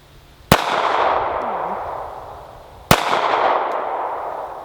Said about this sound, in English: Now you shot a pistol